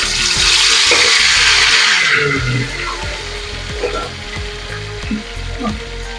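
Murrel fish frying in a pan gives a loud, bright sizzle for the first couple of seconds, then settles into quieter spitting and bubbling with occasional soft clatter.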